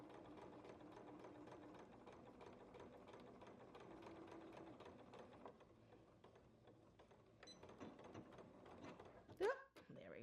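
A sewing machine running a back stitch, its rapid, steady mechanical ticking continuing close by for several seconds before thinning out, followed by scattered clicks and a brief sharp squeak near the end.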